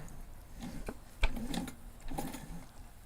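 Slow, hand-cranked sewing machine stitching a backpack over hardware, a sequence of close mechanical clunks and ratcheting ticks at an uneven pace, with a brief speaking voice.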